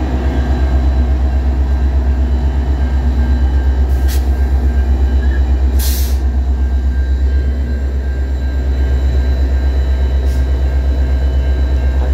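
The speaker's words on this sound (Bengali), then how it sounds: "স্টিলের তৈরি দোতলা ট্রেন।" A steel double-decker diesel local train with five cars arrives near a Chicago station, a loud, continuous low rumble and rolling rail noise close by, with a few faint clanks.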